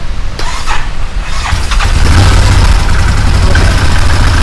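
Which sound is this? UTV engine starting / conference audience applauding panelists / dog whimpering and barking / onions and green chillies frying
UTV engine starting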